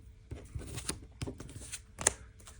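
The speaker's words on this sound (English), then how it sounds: "Let's start shuffling the hand. The deck." A deck of Pokémon trading cards being shuffled by hand, a run of quick riffling and soft slapping bursts with a sharper snap near the end, close and fairly quiet.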